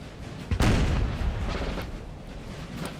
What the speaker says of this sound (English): Artillery going off here. 4 pounders.